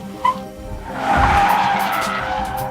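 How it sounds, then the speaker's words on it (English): Tires skid on a Mazda MX-5 Miata braking hard from 60 mph during a stopping-distance test against a Subaru BRZ, a loud steady screech building and holding to the end with no talk. "The Miata edges out a braking advantage, stopping from 60 miles an hour in 111 feet."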